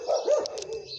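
A dog barks in short, loud bursts during a street rescue of a spotted female dog, with other dogs nearby; the barks cluster near the start and trail off into fainter yips.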